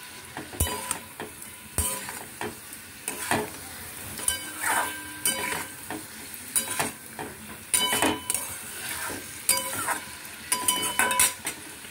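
A spatula stirs spices into cauliflower frying over a low flame for a sesame-paste cauliflower dish, giving repeated scraping strokes and metallic clinks against the pan over a steady soft sizzle, close up and with no talking.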